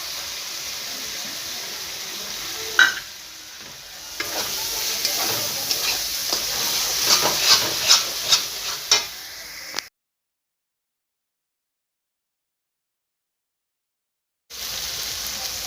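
Garlic frying in a pan, a soft sizzle with crackling spits that grows busier before the sound cuts out for several seconds and then returns.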